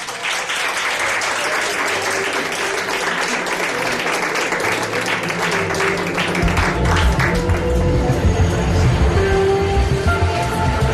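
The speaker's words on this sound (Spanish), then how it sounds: "Un aplauso para este señor." Sustained applause from a live audience at a Spanish talk show for a male guest, dense clapping throughout with a heavier, fuller swell in the last few seconds.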